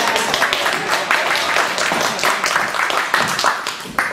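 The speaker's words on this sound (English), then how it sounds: "You can give her a round of applause." Steady applause from a crowd, dense and continuous, with bursts of clapping filling the whole stretch at close range.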